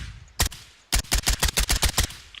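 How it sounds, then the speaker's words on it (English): Bursts of automatic gunfire from the Wolfstrom rifle in the Shattered Skies video game: a single loud shot, a brief pause, then a rapid run of about nine close, sharp reports. "See, even like after your 3rd shot, it just goes haywire"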